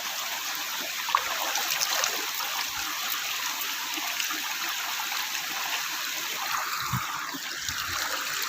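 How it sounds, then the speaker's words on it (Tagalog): River water flowing steadily at a hulo in Mariveles, Bataan, a continuous rushing wash with soft splashes, close and unbroken, with no talking. "Ilog namin to."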